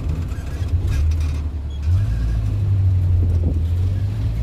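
A 1987 Suzuki Super Carry 1000 'Bagong' with a smooth-running engine produces a steady, close, low drone that swells slightly louder after about two seconds and holds evenly to the end.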